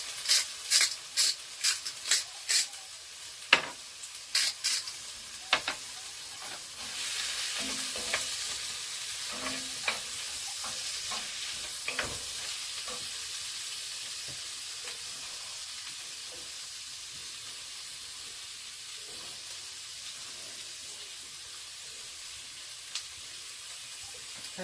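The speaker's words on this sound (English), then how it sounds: "we're going to stir this around, let it cook until the onions get soft" Onions and diced tomatoes sizzle in a hot pan while being stirred, with scraping knocks and clatters early on, then a steady soft frying hiss that continues quietly on its own.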